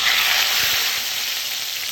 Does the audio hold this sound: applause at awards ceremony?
no